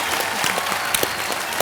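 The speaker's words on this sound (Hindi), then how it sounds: "तो तालियां इन लोगों के लिए" Studio audience clapping on a Hindi TV game show, a steady dense wash of applause running throughout at close range with no pauses.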